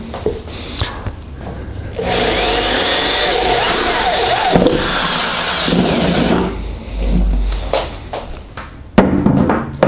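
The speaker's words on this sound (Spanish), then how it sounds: "vamos a hacer un pequeño orificio con un taladro en todo el centro" A power drill bores a small hole in the centre of a carefully marked spot, running steadily and loudly for several seconds before stopping, followed by brief handling clatter.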